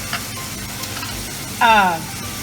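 Garlic sizzling in a frying pan while seasoning smothered pork chops, a steady close frying hiss with a short louder burst of stirring near the end.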